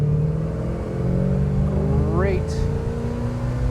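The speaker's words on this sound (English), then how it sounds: "small block Chevy that's been upgraded with a 4-barrel carburetor, performer intake manifold, aluminum heads, high flow air filter, MSD ignition" A 1969 Iso Rivola's upgraded small-block Chevy V8, with four-barrel carburetor, aluminum heads and MSD ignition, idles with a steady low rumble on a farm road, then swells in one brief rev under a short spoken word.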